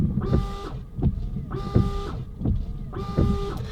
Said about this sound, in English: you can see now that the washer's come on